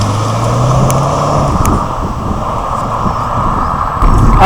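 Vauxhall Corsa VXR Nürburgring Edition driving on an open road on a fine day, a steady close engine drone with road and wind roar throughout, no voices.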